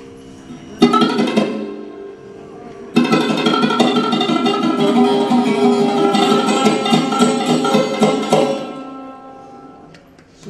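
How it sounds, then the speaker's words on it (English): Sarod plucked with the fingertips rather than the fingernails, giving a softer, rounder attack; a short melodic phrase begins, pauses briefly, then continues as sustained resonant plucked notes with strong harmonics before fading. "If I play Sarod with fingertip,"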